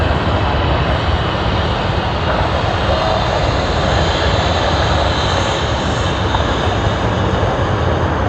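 An Embraer E190 jet on a Sydney to Cairns service produces a continuous, loud engine rumble and rush at Sydney Airport, steady throughout without pauses.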